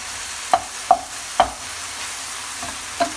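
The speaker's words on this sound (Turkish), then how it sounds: "Evet, kıymamı da mühürlemeye devam ediyorum artık." Minced meat sears for a bolognese sauce under a low, steady sizzle, punctuated by several sharp clacks of a utensil against the pan at uneven intervals.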